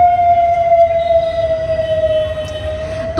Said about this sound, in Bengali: অ্যাম্বুলেন্স যাচ্ছে একটু ওয়েট করো